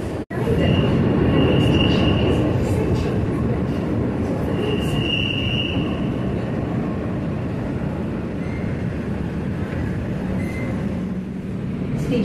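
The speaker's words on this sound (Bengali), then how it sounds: "মেট্রো ছেড়ে দিয়েছে এসপ্ল্যানেড থেকে" A Kolkata Metro train running from Esplanade rumbles along loudly and steadily, with faint wheel squeals rising now and then over the continuous roar.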